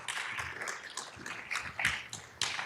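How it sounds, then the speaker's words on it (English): Faint, scattered clapping from a seated audience at a summit event, a thin patter of hands tapping irregularly across a few seconds, quiet and somewhat distant. "how about one more round of applause for James Fallows"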